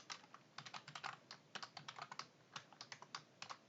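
Computer keyboard keys, including Alt+Enter and Tab, are pressed in quick bursts of light plastic clicks, about twenty keystrokes in uneven runs with short pauses, quiet and close by.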